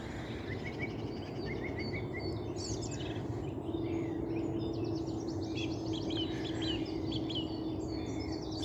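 A small bird calls repeatedly in short, scratchy chirping phrases over a steady hum of distant background noise.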